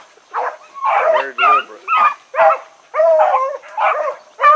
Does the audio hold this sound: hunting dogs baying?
yes